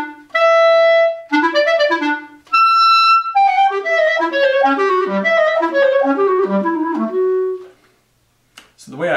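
A clarinet plays a fast, repeating sixteenth-note ostinato from Brahms's Piano Quartet Op. 25 after a few longer opening tones, clear and close, ending in a brief pause.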